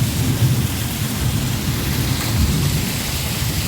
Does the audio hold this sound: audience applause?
no